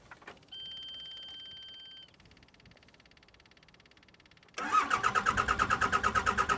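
A digger's engine is cranked off a jump pack, with steady electronic beeps and a low hum first, then a loud, rhythmic chugging crank of repeated even pulses that carries on to the end.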